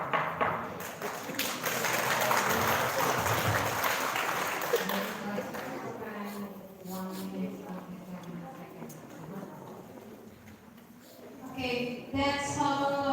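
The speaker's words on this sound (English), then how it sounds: "Once again, big applause for them." Audience applause at a senior high school English debate, a broad wash of clapping that swells for several seconds and then thins out, with voices talking over it toward the end.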